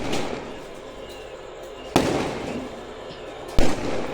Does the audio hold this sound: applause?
no